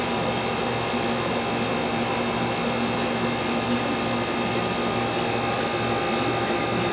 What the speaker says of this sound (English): hit the cycle button. That's going to start pumping down the chamber.